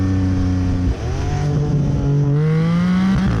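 A 2021 Porsche 718 Cayman GTS 4.0 with a flat-six engine revs hard, its loud tone climbing through gears with a brief dip at a shift, close and alone, on a canyon road.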